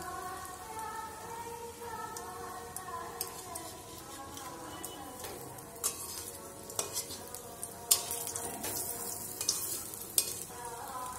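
Soya and potato kababs frying in hot white oil give a constant crackling sizzle, with scattered sharper pops and spatters throughout.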